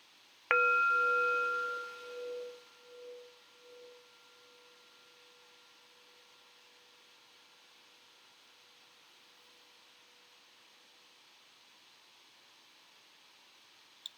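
A single meditation bell is struck once, ringing out with a clear bright tone that lingers and pulses as it slowly decays over several seconds, leaving near silence until a faint tap at the very end.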